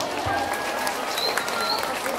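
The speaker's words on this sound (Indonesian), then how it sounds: "Tepuk tangan damel Bu Sri Nurhayati." Audience applause at an informal gathering, a dense patter of clapping that continues steadily across the moment, with voices talking over it.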